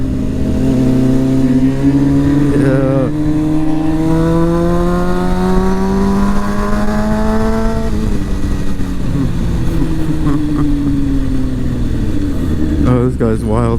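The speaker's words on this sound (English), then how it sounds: "Buddy up front popping wheelies." A street motorcycle engine loudly revs and climbs in pitch while popping wheelies, then drops back and surges again, a continuous close buzzing roar throughout.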